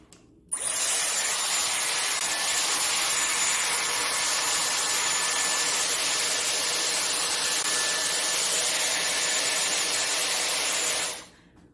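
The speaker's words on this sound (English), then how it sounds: "Just a few minute touch up with just the round brush on the AIRWRAP." A Dyson Airwrap hair styler with its round brush attachment blows a steady, close, even rush of air for about eleven seconds, starting and stopping abruptly, with no talking.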